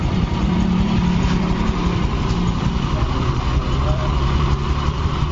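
A Yamaha Fino 125 motorcycle engine idles steadily with a low, even rumble throughout, while a person talks over it.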